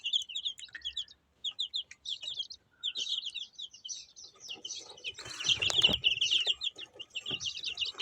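A brood of week-old incubator-hatched chicks peeping in rapid bursts, sparse at first and then swelling into a busy overlapping chorus with some rustling, close by and fairly soft.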